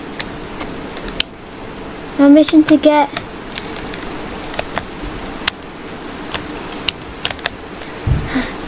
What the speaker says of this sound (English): Oh no, the trail made it rain.